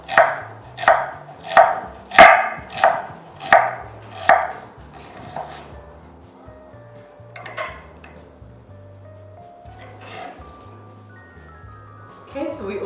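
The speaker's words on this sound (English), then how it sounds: "I'm going to slice this beautiful onion" A knife slices through an onion on a cutting board in about seven crisp, evenly spaced strokes, close and distinct, then gives way to softer, scattered handling noises.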